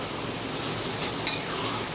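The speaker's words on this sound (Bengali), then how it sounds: "তো খুব বেশি ভাজার দরকার নেই, এটা চাইনিজ ফ্রাইড রাইস, তো বেশি ভাজতে হয় না।" Carrots and beans being stir-fried in a pan for Chinese fried rice, a steady soft sizzle with light stirring scrapes and a brief utensil clink near the middle, close by with no talk.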